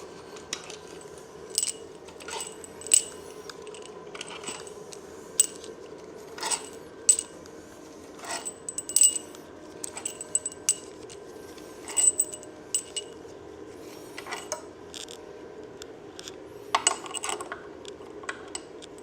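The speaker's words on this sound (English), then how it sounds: "Alright, that's all the head bolts out." Engine head bolts clink and tap against metal as they come out one after another, giving sharp, bright, irregular metallic ticks over a faint background hum.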